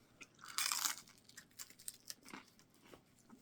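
Crunchy pizza edge crust is bitten and chewed close to the mic, a sharp crackling bite followed by several irregular crunching chews, with no talking.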